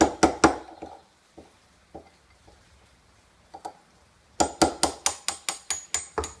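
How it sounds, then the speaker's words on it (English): Sharp metallic hammer taps on a steel wrench ring out, three quick strikes, a few scattered lighter knocks, then a steady run of about ten evenly spaced blows, close by. "just hammer that in and out a time or two"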